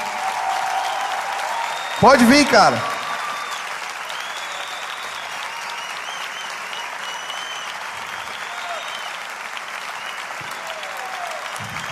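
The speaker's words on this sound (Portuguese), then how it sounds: "Quero que vocês aplaudam o Junão até ele chegar aqui na frente." A church youth audience applauds steadily for about twelve seconds, with a louder burst early on while someone speaks over the clapping.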